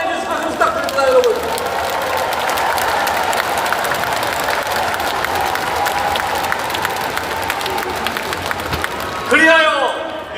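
Party members at a Democratic Party convention in Korea give warm, sustained applause and crowd noise, with a voice speaking briefly near the start and again at the end over the clapping.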